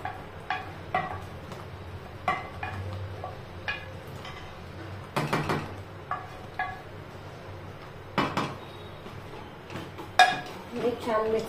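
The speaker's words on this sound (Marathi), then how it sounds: "छान मिक्स करायचं आता हे।" A spoon clinks and scrapes against a pan while mango pulp from Hapus mangoes is stirred into a traditional coconut barfi mixture. Irregular metallic taps recur close by, and a voice talks over them.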